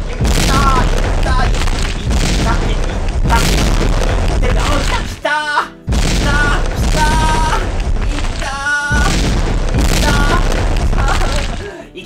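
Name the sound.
explosion in bowling video game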